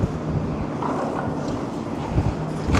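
Strong wind buffeting the microphone on the Blackpool seafront beside a moody sea, a loud continuous roaring rumble with gusty swells and no voices.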